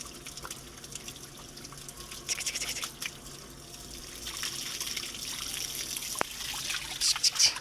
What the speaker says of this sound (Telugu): వాటర్ పట్టుకుంటూ ఆడతాడట